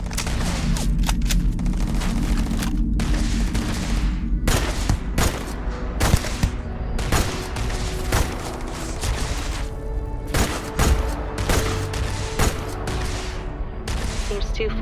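Repeated gunfire in Starfield, sharp shots in irregular clusters across the whole stretch, loud and close over a low hum of game background.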